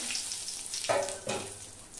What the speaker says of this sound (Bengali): বেগুনগুলোকে আমি এক এক করে ভেজে নিলাম